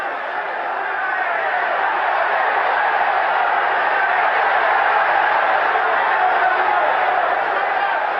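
Excited crowd at the Carlos Monzon vs Jean Claude Bouttier boxing match roars in a sustained, loud, muffled swell of cheering and chatter from an old broadcast, holding steady throughout.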